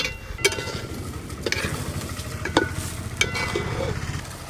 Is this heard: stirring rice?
yes